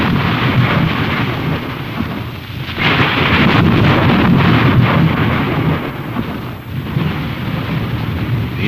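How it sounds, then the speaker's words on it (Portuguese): Thunder and deep rumbling roll on loudly and continuously as a sound effect, with a swelling burst in the middle and a dense, noisy storm-like texture throughout, no voices. "e logo se fizeram trovões, e estrondos, e relâmpagos"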